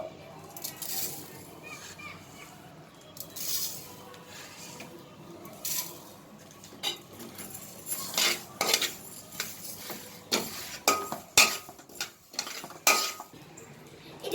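Cumin and mustard seeds are dry-roasted in a pan for South Indian tomato pickle: a quiet background is broken by irregular metallic scrapes and clinks of a spoon stirring against the pan, growing busier toward the end.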